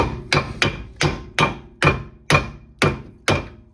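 Eight evenly spaced, sharp metallic taps from a hammer knocking a part into place on a Jaguar S-Type barn find, close and loud with short ringing decays.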